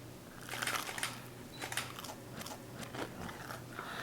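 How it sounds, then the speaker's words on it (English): Biting into a crispy grilled cheese sandwich, several faint close crunches and chewing crackles spread over a few seconds with no talking. "now let's take a bite and see if we have some nice crunch here"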